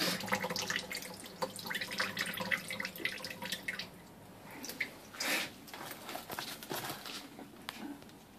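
Seawater splashes and pours into a sink while live sea urchins are being opened, with patters, drips and wet squishes running throughout at close range, and brief voices in the background.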